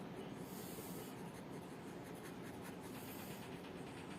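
Soft scratchy strokes of a Pitt artist pen sketching and hatching on paper, quiet and continuous, with faint repeated scraping textures and no speech.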